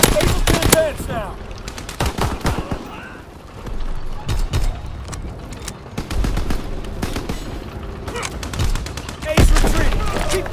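Heavy gunfire in Call of Duty WWII from the NZ-41 rifle and other weapons, with rapid bursts and single cracks close and loud throughout, mixed with shouted voices in the battle.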